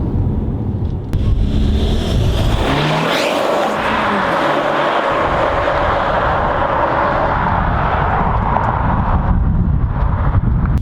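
An Audi A5 Sportback TFSI Quattro on the move, its engine loud and steady with a brief surge in revs and a gear change, road and wind roar underneath, no talk.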